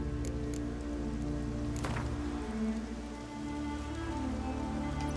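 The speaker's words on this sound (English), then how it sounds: "Needed a spot of rain." Steady rain in the game The Witcher 3: Wild Hunt patters on a surface beneath a low, constant hum, with a few sharper drips and clicks, even and unbroken throughout.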